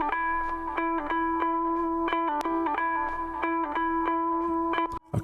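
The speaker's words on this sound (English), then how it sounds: "There's a little bit of a guitar riff that I took." A dry, unprocessed electric guitar riff plays a repeating rhythmic pattern of clear picked notes, steady and close, ending with a brief cutoff.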